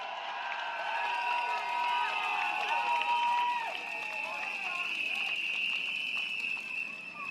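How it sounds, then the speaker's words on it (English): A large outdoor crowd at a Tampines election rally cheers and applauds steadily, with whistles and shouts over a dense wash of clapping, loud and sustained throughout. "Let's give ourselves a big round of applause."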